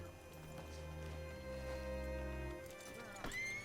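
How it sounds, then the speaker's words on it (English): A horse's hooves clip-clop in Red Dead Redemption 2, faint and steady beneath music and game sounds, with a rider's voice speaking over them. "Hitch your horse up here."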